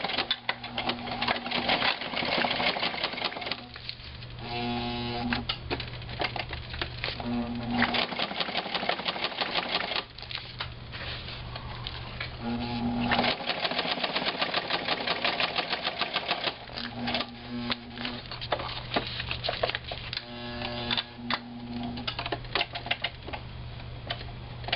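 A sewing machine stitches the binding of a junk journal with a continuous close, rapid mechanical chatter and hum, broken by a few brief changes in speed and short stops.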